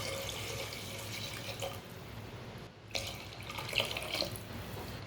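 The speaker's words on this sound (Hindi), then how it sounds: "अब 2 गिलास सादा पानी डाल लेंगे।" Plain water pours into a pot while mutton pulao is being made, a steady splashing gush at close range with a brief break midway before it resumes.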